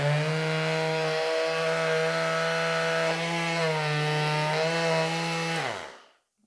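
A small Parkside PAMS 12 A1 12V cordless delta sander with a small orbit runs with a steady high-pitched whine and buzz, close by, then spins down and stops.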